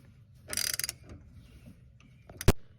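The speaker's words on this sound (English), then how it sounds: "go ahead and just twist the ratcheting end." A ratcheting wrench turns a bolt on a 2020 BMW M2CS during a camber plate install: a quick burst of rapid ratchet clicks, then quiet, followed by a single sharp metallic clack.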